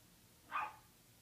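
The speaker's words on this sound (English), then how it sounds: "Shut up, dog." A single short dog bark sounds at moderate distance over a quiet background, brief and alone.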